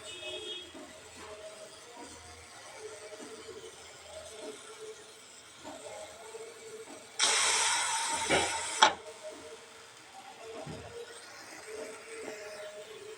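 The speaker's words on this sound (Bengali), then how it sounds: "প্রেশার কুকারে এই যে 2টা শীষ দেওয়া হয়ে গিয়েছে।" A pressure cooker cooking khichuri, with a quiet kitchen background broken by one loud burst of whistling, hissing steam that lasts about two seconds before it dies back down.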